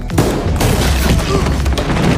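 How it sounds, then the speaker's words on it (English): Gunshot in an action movie scene, a loud dense burst of firing with booming low thumps and rumble running through the whole moment, close and continuous. "The gunshot also drew the attention of the other thugs."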